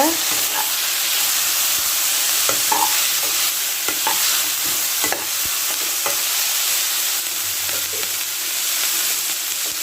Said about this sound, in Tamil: நறுக்கி வச்சுருக்கிற குடமிளகாயை கேப்சிகமாக சேர்த்திக்கலாங்க நல்லா வணக்கி கொடுங்க